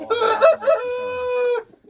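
Rooster crowing once, a loud, close, drawn-out call with strong harmonics that rises and then holds a long steady note before breaking off into near silence.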